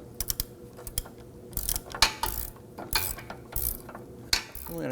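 A ratchet clicks in short bursts while snugging a 15mm nut onto a front sway bar end link of a 2001-2009 Volvo S60, the close, sharp pawl clicks coming in uneven strokes with pauses between.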